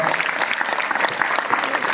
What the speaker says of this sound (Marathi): आत्ता टाळ्या वाजून त्यांचं अभिनंदन करा